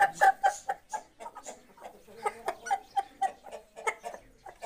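Roosters of a three-band breeding line, kept for sale, cluck in quick bursts of short choppy calls close up, pausing briefly before resuming.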